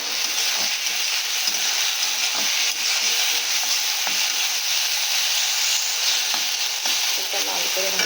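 Beetroot sizzles steadily in a pan with a little salt, a dense continuous frying hiss broken by soft scrapes and taps of stirring, close and even throughout, with no voices.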